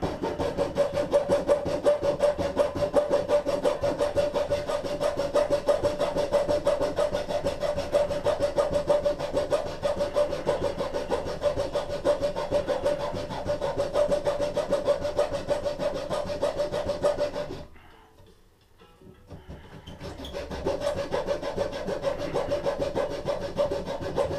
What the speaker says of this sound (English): Go to the hacksaw.